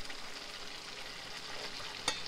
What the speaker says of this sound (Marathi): आता आपण तयार केलेली टोमॅटोची पेस्ट यात टाकून घेऊ.